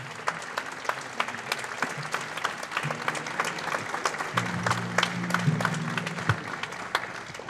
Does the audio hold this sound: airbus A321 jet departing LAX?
no